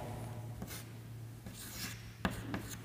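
Marker or chalk writing on a board while a DNA structure is drawn, with several short scratchy strokes and a sharp tap over a low steady hum, with no talk.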